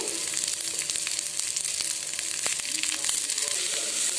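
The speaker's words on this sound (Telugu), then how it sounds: "దాంట్లో ఉల్లిపాయలు, పచ్చిమిరపకాయలు, కరివేపాకు, జీలకర్ర వేసి కొంచెం వేగనివ్వాలి." Onions, green chillies, curry leaves and cumin frying in hot oil, a steady close sizzle running unbroken throughout with occasional stirring clicks.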